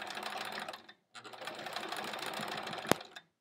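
A sewing machine free-motion stitching a quilt-as-you-go quilt block runs with a steady close whir, pauses briefly near the start, then resumes before a sharp click and stop.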